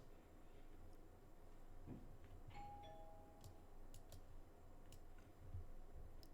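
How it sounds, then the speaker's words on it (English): A faint two-tone doorbell chime sounds once in the middle, far off and quiet beneath steady room hiss, with a few soft clicks scattered around it in a home at 9 a.m. on a Wednesday. "That was in fact my doorbell."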